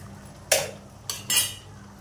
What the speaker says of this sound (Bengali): ঢাকনা দিয়ে আমি চাপা দিয়ে দিচ্ছি।